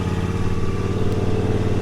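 A Husqvarna R316 TSX AWD riding lawnmower driving forward, its engine running with a steady, close, even hum and no speech.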